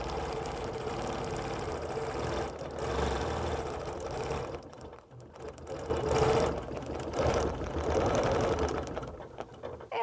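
A sewing machine stitches steadily as circles are quilted one inside another for a puffy finished look, its motor whirring close and continuous, rising and easing in speed throughout.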